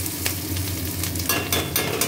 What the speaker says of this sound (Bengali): পেঁয়াজটা দেখুন ভালো করে ভাজা হয়ে গেছে